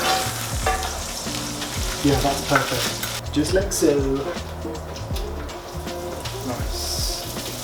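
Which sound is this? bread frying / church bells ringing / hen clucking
bread frying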